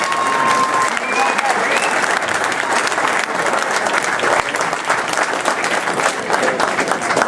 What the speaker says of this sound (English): So to Tommy, a great round of applause.